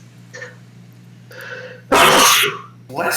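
A single loud sneeze close to the microphone, bursting out after a couple of faint breaths or murmurs and followed by quieter voices.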